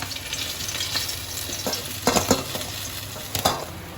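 Pieces of bata fish shallow-frying in oil, a steady close sizzle with a few louder spattering bursts and the faint clink of a utensil, no one talking.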